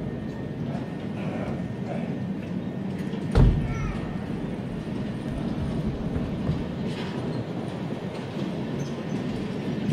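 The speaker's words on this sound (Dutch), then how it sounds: "Komt de trein langs." A model train rolls past on a model railway at a model railway show, a steady close rumble with a sharp clack partway through, under a busy hall murmur.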